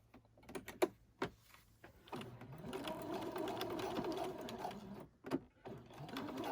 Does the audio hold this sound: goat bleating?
no